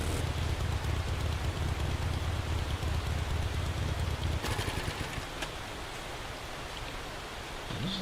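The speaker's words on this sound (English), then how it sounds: "it's only raining at the base" Steady dense rain hisses from the 7 Days to Die video game at a base, loud and continuous, then softens a little partway through.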